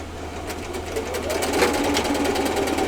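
A home sewing machine stitches a pineapple quilt block, a steady close mechanical whir running throughout with faint talk around it.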